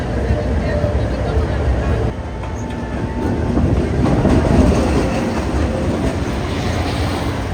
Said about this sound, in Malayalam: ഒരു ട്രെയിൻ കടന്നു പോകുവാനുള്ള വെയിറ്റിങ്ങിലാണ് ഇപ്പോൾ ദൂരെയായി ആ ട്രെയിൻ പ്രത്യക്ഷപ്പെട്ടിട്ടുണ്ട്